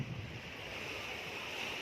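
Sea waves washing onto the beach at Sriracha, a steady broadband surf wash mixed with wind noise on the microphone, continuous and fairly soft, with no voices.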